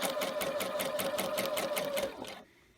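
A sewing machine stitches fabric in a steady, rapid mechanical rhythm with a whirring motor tone, loud and close, then stops abruptly near the end.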